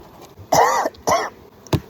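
Three harsh coughs from smoke inhalation while working beehives, in quick succession, close and loud, the last one shorter and sharper.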